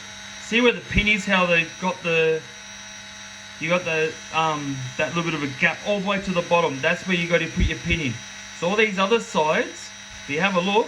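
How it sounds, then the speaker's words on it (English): A steady electric drill hum runs unbroken in the background of a workshop during a 1/10 scale drag car build, while someone talks over it. "sorry about the noise of the drill"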